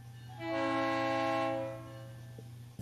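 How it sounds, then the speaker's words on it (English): A train horn sound effect plays on a live stream, a single sustained, harmonic blast that swells, holds for about a second and fades, fairly loud, with no talking. "Thanks for the train sound, Slug."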